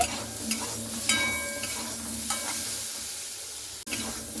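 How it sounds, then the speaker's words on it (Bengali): Elephant foot yam pieces frying in oil in a pan until reddish, a close, steady sizzle with a few stirring scrapes and a sharp knock near the end. "তো আমি একটু লালচে লালচে করে ভেজে নিচ্ছি"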